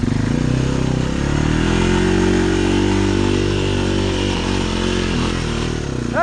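A Honda 300 ATV on axle paddle tires claws up hard clay, its engine revving loud and strained close by, pitch wavering with the load, no voices.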